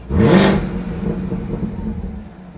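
A Chevrolet Camaro ZL1 engine and exhaust run close by, a loud burst of revving whir that settles into a steady, throaty rumble.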